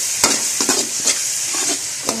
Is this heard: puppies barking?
no